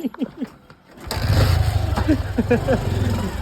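A motorcycle engine turns over and settles into a steady low rumble after a second of quiet, with voices chattering over it.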